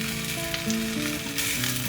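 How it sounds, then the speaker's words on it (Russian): Long, thin potato strips sizzle in a pan with browned onion, a steady close frying hiss with faint stirring, cooked at an abandoned house by a river. "Лучок подрумянился, и можно уже добавлять картошечку."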